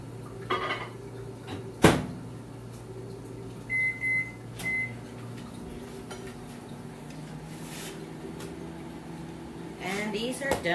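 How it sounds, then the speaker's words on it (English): A microwave hums steadily with a low drone, a door clunk near the start and a few short beeps midway, plus light kitchen clatter. "Put it in the microwave just a few seconds."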